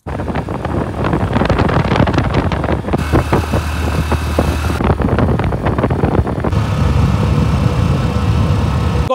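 A Hero Super Splendor motorcycle ridden on the road, its engine droning steadily under heavy wind buffeting on the microphone, loud and continuous throughout.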